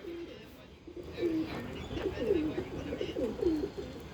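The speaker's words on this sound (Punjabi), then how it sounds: "ਲਾਲ ਅੱਖਾਂ ਦਾ ਕਬੂਤਰ ਜੋ" Ferozpuri pigeons in a loft coo in a run of soft, throaty calls, about four rising coos spaced a second apart over steady low background noise, moderately close.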